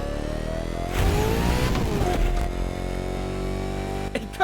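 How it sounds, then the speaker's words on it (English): A swapped engine in a car in The Crew Motorfest revving with a retro video game tone, its pitch climbing then dropping and settling into a steady drone, ending in a few sharp pops, with no talk. "It kind of sucks as an engine sound, but it works as like a retro video game sound."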